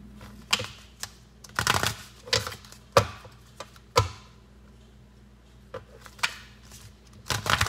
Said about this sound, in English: Getting them a good shuffle so they can be mixed up